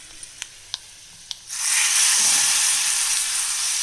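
A hot mustard-seed tempering with chili powder poured into a dry prawn and tomato curry: a few small clicks and pops, then a sudden loud, sustained sizzling hiss that stays strong for a couple of seconds, with no talking.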